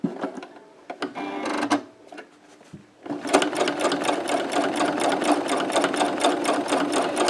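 A domestic sewing machine stitches red thread over a fabric rose on a collage notebook cover, a few short start-stop bursts and then a steady, close, rapid mechanical whirr that runs on without a break.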